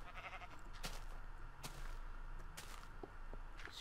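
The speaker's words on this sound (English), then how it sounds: "Sheep trying to jump into the cave here" Sheep bleating in the Minecraft video game, a few short bleats scattered over steady game ambience, fairly close and moderately loud with no talking.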